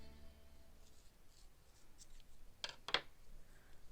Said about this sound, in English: And then cut and tie off your yarn.